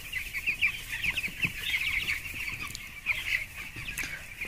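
Two-week-old broiler chicks in a poultry shed during winter keep up a dense, continuous chorus of high cheeping and peeping, many birds calling at once from close range.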